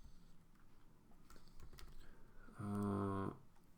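Keys tapped on a computer keyboard, quiet close clicks scattered sparsely, followed by a short, louder tonal beep near the end.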